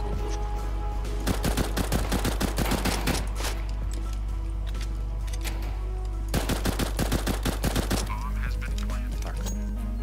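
Loud bursts of automatic gunfire from CS GO come in two clusters of rapid, closely spaced shots, separated by quieter stretches of game background.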